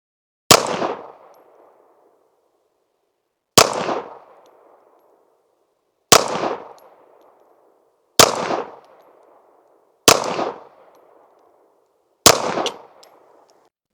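Six Federal Champion 115 grain rounds fired from an Archon Type B Gen 2 pistol at a range, each sharp loud shot spaced about two seconds apart with a short ringing decay, no speech.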